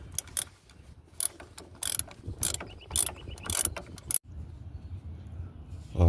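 A ratchet clicks in quick bursts as bolts are tightened on the leak detection pump of a 2011 Toyota Camry 2.5L, close and crisp, with short pauses between strokes.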